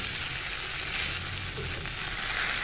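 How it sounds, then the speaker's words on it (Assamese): Jute leaves frying and being stirred in a pan, a steady bright sizzle with soft scraping stir sounds, close and continuous without speech. "মই এই মৰাপাতখিনি এনেকৈ ঘূৰাই দিলোঁ"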